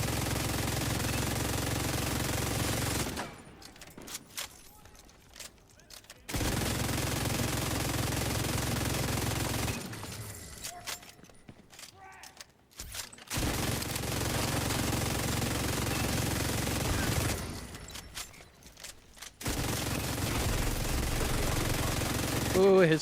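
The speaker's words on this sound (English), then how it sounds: "Ooh, his turret hurts" An enemy turret in The Division 2 fires in long sustained bursts of rapid automatic gunfire, loud and close, broken by a few short pauses.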